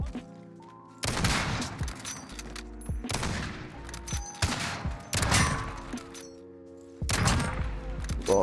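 Rapid MP5 submachine gun fire in a Modern Warfare search-and-destroy match, with several loud, close bursts of shots and sharp impacts that stop and start over a low game hum. No voices are heard.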